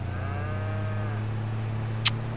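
Cows moo in Farming Simulator 22 on a dairy farm, a single drawn-out call rising and falling over a steady low hum, with a short sharp click near the end; no talking.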